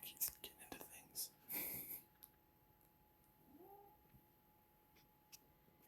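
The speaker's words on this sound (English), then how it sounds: "My cat keeps getting into things." A house cat gives a single short, faint meow in a quiet room, following soft whispered speech.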